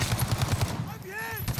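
Rapid automatic gunfire in the video game Call of Duty: Warzone, a fast, even burst of close shots for about a second before a short voice cuts in.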